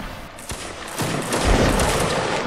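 Gunfire in a multiplayer musket-era infantry battle game, with several sharp shots cracking close in quick succession and then a dense rolling volley of fire, without any talk.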